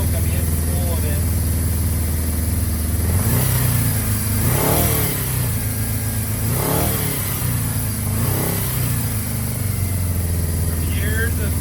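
A 1981 Suzuki GS550 motorcycle engine, long unused and smoking, runs close by, idling then revving in several rising throttle blips, with people talking over it.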